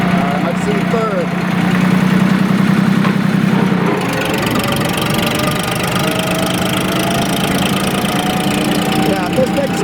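A vintage Porsche tractor engine runs with a steady, knocking mid-range chug, close and loud throughout, while a person talks over it.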